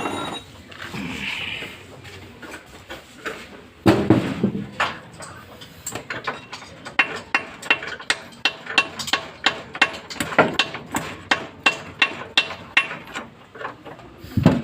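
Hammer blows ring out while a machine is being taken apart and removed, irregular at first and then settling into a fast series of sharp metallic knocks over faint workshop background.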